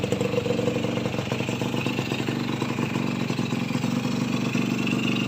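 A small nitro engine in a radio-controlled car runs steadily through its break-in, a dense, buzzing, unbroken drone held close and loud the whole time with no change in pace.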